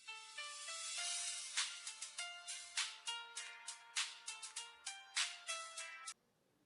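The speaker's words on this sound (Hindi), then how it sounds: "किसकी कॉल आ रही है?" A phone ringtone plays alone, a bright melodic jingle of repeating chimed notes that cycles several times at steady volume before cutting off abruptly.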